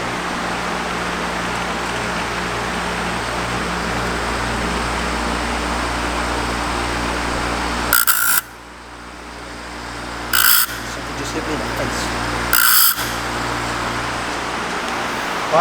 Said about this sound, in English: we're gonna go ahead and turn on our makeshift tool over here and start gapping these